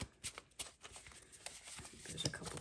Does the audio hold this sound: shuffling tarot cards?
yes